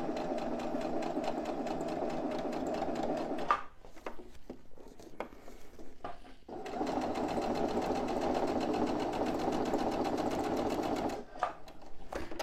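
Sewing machine stitching topstitching on a bag, finishing with a backstitch: a steady fast mechanical chatter, close and alone, pausing for a few seconds in the middle before running on again.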